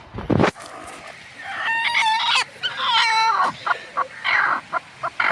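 A broody hen sitting on eggs gives a run of loud, close clucks and drawn-out squawking calls, rising and breaking off in bursts with short pauses between them.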